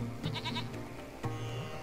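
Goat bleating in the Lost Horizon video game: a few short wavering bleats near the start, then a longer bleat about a second later, heard up close with no talk.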